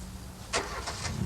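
A car engine starts near a restored railway station now serving as a car park in the Mendips of Somerset, a brief muffled catch followed by a low running rumble.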